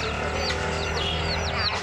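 Painted baby chicks at a street market in Mumbai, India, give rapid high chirps and peeps that rise and fall in quick sweeps, repeating steadily over a constant low market hum.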